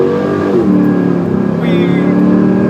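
A car engine revs and pulls hard under acceleration, loud and close, its pitch climbing steadily, with someone speaking over the noise.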